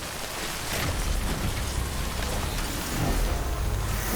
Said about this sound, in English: Rain is getting a little bit intense though.